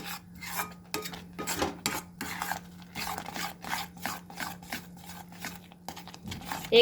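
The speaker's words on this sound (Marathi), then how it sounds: "आता आपल्याला याला थोडं तूप सुटतपर्यंत हलवायचं आहे। तोपर्यंत याला असंच हलवायचं आहे।" Food is stirred in ghee in a pan, a steady run of rhythmic scraping and rasping strokes close by, moderately quiet over a low constant hum, with no talking.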